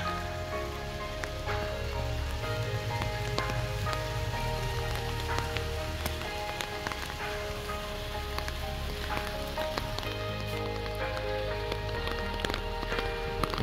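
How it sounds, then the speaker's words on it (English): Wind and rain outdoors at a cemetery, a steady dense patter of rain on surfaces with a continuous rushing wash, moderately loud and unbroken throughout. "Wind and rain is starting to set in a little bit harder."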